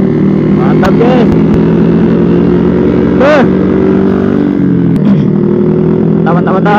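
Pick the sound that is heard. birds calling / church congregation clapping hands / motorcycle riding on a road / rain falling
motorcycle riding on a road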